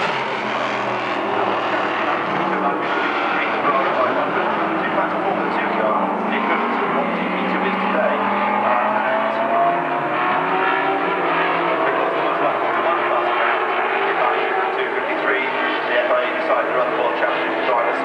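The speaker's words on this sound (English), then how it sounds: "BRM going past the pits" A classic BRM P57 Formula One car with a V8 engine roars past the pits at a Bahrain demonstration. Its loud, sustained engine note climbs and falls in pitch over a dense background din.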